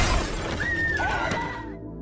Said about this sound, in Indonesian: orang yang memecahkan kaca mobil